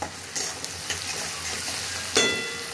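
Vegetables with turmeric, asafoetida, salt and spice mix being stirred in a pan, a soft sizzle under occasional scraping clicks of the spoon against the metal.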